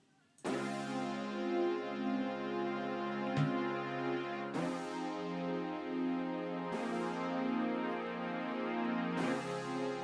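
Glossy brush percussion sample in a deep tech house or Afro house production, looping with sharp repeated hits about every two seconds over a sustained tonal layer, steady and clean with no talking.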